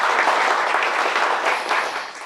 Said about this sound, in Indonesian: Tepuk tangan yang meriah.